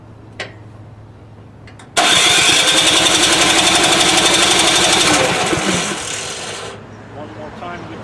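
A snowblower engine with its choke adjusted catches after a few faint clicks, then roars steadily and loudly for several seconds before easing down to a lower, quieter run.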